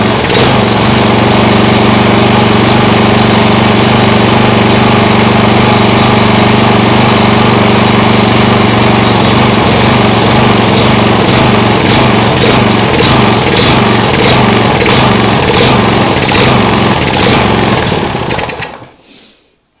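A lawn mower engine rigged as an outboard motor runs loud and close, its steady drone turning into a rapid pulsing surge as it hunts, then cutting out abruptly near the end.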